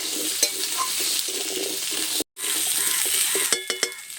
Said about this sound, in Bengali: মশলার সাথে আলুটা আমি বেশ ভালোভাবে মিশিয়ে নিচ্ছি